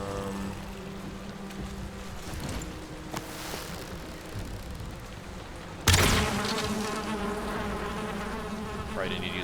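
Insect buzzing from bees in the Valheim video game, a steady droning hum that runs throughout, growing louder and denser partway through.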